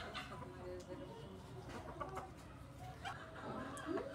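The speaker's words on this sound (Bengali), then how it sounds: "মুরগিগুলো দেখেন কি হেলদি।" Healthy chickens clucking softly in a rural yard, faint and somewhat distant beneath steady outdoor background noise, with a few brief calls scattered through.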